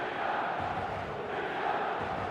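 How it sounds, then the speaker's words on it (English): A large stadium crowd murmurs in the eFootball video game, a steady, dense, expectant buzz of many distant voices without distinct cheers. "There's a real expectant buzz in the stadium"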